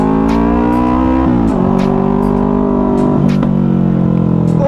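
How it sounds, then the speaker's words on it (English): An unmuffled starter motorcycle with its exhaust missing revs loud and close as a raw, harmonic engine drone. Its pitch rises and dips, broken by sharp popping backfire cracks. "that backfire"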